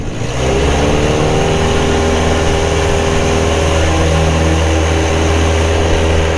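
Engine of a 2010 Carbon Cub SS light airplane at full power during a go-around in landing practice, a loud, steady droning roar that rises quickly then holds unbroken and close.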